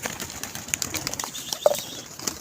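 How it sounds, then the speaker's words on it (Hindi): Racing pigeons flying in to land at a pigeon club, with faint, scattered wing flutters and a single short call over a quiet outdoor background. "ये आ रहे हैं जी सारे।"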